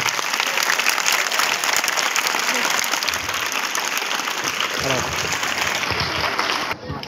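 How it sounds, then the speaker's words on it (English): An indoor audience claps in a dense, sustained round of applause that fills the room evenly for several seconds before tapering off at the end. "So give a big applause to her"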